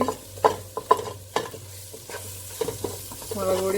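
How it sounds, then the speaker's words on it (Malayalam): Mango powder stirred into chole curry masala in a pan, with close, sharp scraping strokes of the spoon over a soft sizzle, heard without any talk. "മാംഗോ പൗഡർ ഇളക്കാം."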